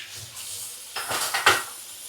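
Dishes, pots and pans set out to dry in a home kitchen clatter after a quiet start: a few sharp metallic knocks and clinks bunched close together near the end, up close.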